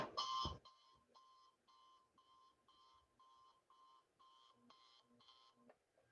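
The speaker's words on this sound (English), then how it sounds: "alarm clocks all of a sudden" An alarm clock rings indoors in a steady series of about a dozen short, evenly spaced electronic beeps after a brief louder burst at the start, fairly faint and close.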